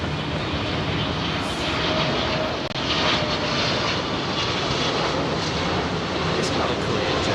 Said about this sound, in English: It's another Korean jet.